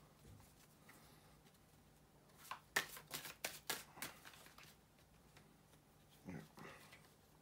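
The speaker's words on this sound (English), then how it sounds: "bear with me a second, guys, to shuffle the tarot cards" Tarot cards being shuffled by hand, a quiet burst of quick riffling flicks in the middle followed by a brief second shuffle, fairly close and soft with no talking.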